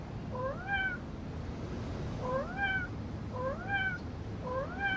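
A cartoon cat in the game Cato (Butter Cat) gives four evenly spaced, clear rising meows over a low, quiet background hum.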